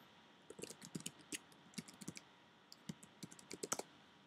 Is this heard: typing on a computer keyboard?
yes